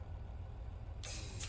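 Air brakes on an MBTA commuter train running from Boston to Stoughton in Train Sim World 5 release a sudden loud hiss after a second of low engine rumble.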